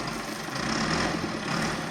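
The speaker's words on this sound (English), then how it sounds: "So that's a tractor tilling this land." Tractor engine running steadily while tilling virgin farmland, a continuous loud mechanical drone with a low rumble and no pauses.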